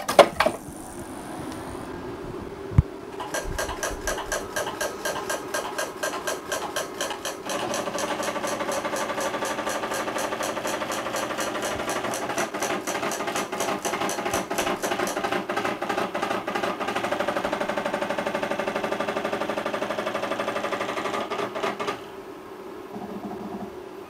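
A refurbished PR Solo250 moving head light powers up, with a short click and then a long run of dense, rapid mechanical whirring and ticking from its motors as it resets, steady and close, stopping near the end.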